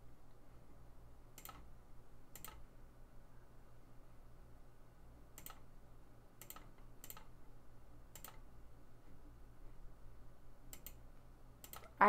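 Computer keyboard and mouse clicks while playing Gartic Phone, sparse single sharp clicks scattered over several seconds, faint and close, against a quiet low hum with no talking.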